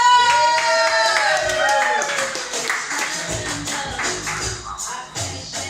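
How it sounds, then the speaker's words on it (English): An audience at a Hollywood Hotel stand-up comedy show claps for the next comic coming to the stage, steady clapping mixed with a musical walk-on tune and some crowd noise. "Clap for Kristal"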